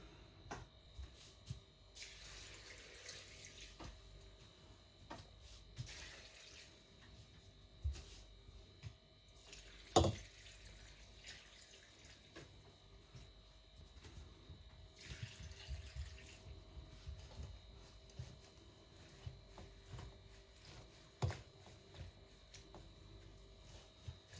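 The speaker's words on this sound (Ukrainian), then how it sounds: "Зараз залью водою і поставлю на вогонь." Water from a tap runs into two cooking pots being filled for tarragon syrup. It comes in several separate rushing bursts, fairly quiet, with faint clinks between them and no voices.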